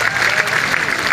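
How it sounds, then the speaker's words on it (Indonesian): A church congregation at an open-air revival service applauds with steady, dense clapping that holds loud and even throughout, with a voice faintly mixed in. "berikan tepuk tangan yang meriah"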